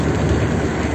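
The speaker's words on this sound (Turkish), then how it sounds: "Yağmur şiddetli" Heavy rain on a March day on the road to a village near Erbaa, a loud dense continuous hiss of downpour filling the whole moment with no voices.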